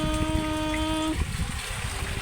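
Heavy rainwater flooding past a home during rain, a steady loud rush of flowing water close by, with a tonal hum fading out partway through.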